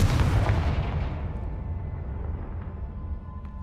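A Confringo fire-blast spell explodes in Hogwarts Legacy, a loud booming burst at the start whose broad rumble slowly decays into a low lingering tail with faint game ambience.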